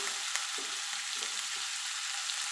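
Tomatoes sauté with onion and ginger garlic paste in a pan while making a crab pepper fry, giving a steady sizzle with occasional soft stirring scrapes.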